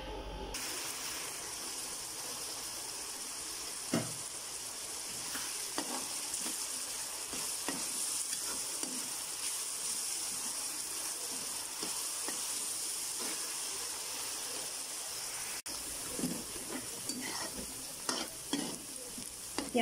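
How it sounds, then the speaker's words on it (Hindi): Chopped onions browning in hot oil for capsicum qeema, a continuous dense hiss and sizzle with occasional stirring knocks, steady and close with no talk. "प्याज हमारा लाइट सा ब्राउन होना शुरू हो गया।"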